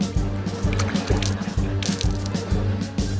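Water sloshing and splashing in rhythmic bursts as soldiers in training dunk their faces into a basin, repeated wet plunges over a steady low rumble with continuous busy splashing throughout.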